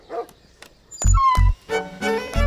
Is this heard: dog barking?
yes